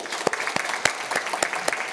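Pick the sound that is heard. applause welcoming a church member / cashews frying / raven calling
applause welcoming a church member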